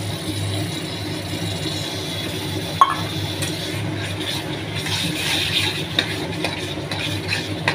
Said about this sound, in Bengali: এবার আমি এতে দেবো জল ঝরানো টক দই।